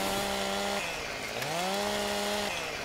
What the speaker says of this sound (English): Ah, the sound of the chainsaw.